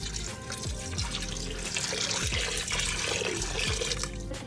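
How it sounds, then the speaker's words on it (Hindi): Water poured into mutton in a cooking pot for karahi, a continuous splashing, gurgling pour with small drips, fairly close and steady throughout. "मैं गोश्त के साथ से जो है ना इसमें पानी डाल रही हूँ।"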